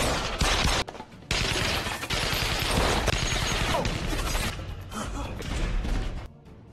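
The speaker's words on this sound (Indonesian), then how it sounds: "Rudy pun langsung menyuruh semua anak buahnya, untuk menghabisi Ruslan sampai terjadilah baku tembak di antara mereka" Shootout gunfire from a gangster action film: dense, loud bursts of rapid shots and crashing impacts, nearly continuous across the scene with brief gaps, dominating the mix.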